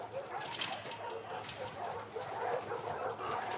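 Dogs kept in kennels in The Last of Us Part II bark and whimper in the distance, their yelps muffled under a dense layer of game ambience and a steady hum.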